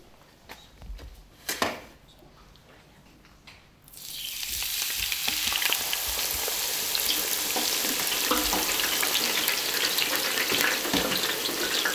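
Potato chips frying in a fryer during small-scale agro-processing training, a steady loud crackling sizzle that starts abruptly about four seconds in and continues, after a few quieter handling knocks.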